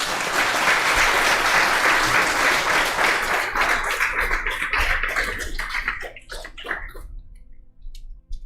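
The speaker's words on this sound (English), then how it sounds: "Please give them big applause one more time for their sharing." Audience applause at a Sunday morning meditation gathering, a dense, steady clapping that fills the room, then thins into scattered claps and fades out over the last couple of seconds.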